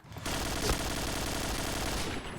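Rapid automatic AK rifle fire in the shooting game Point Blank, a dense continuous burst lasting about two seconds, close and loud with no talk over it.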